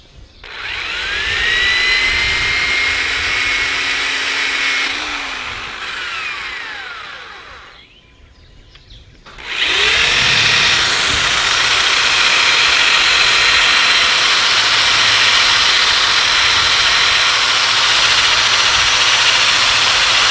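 Power tool grinding rust off a crossmember of a 1979 Trans Am during a rebuild, a loud high whine that spins up, drops away briefly, then restarts and runs steadily, close by.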